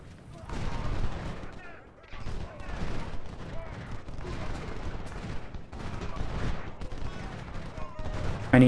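Musket volleys crackle from a Civil War battle in the strategy game Ultimate General: Civil War, with a farmhouse garrison firing back as an army presses the attack; dense, continuous rattling gunfire fills the clip with repeated bursts, fairly loud and steady.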